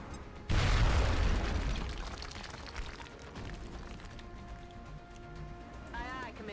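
A grenade goes off in the XCOM tactical game with a single loud, deep boom that fades over about a second, followed by softer game sounds and a voice talking.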